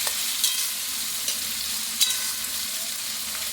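Veg dal ingredients frying in a pan give a steady close hiss, with a few brief stirring clinks and scrapes, and no voices.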